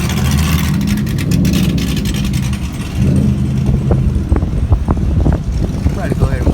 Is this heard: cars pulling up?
yes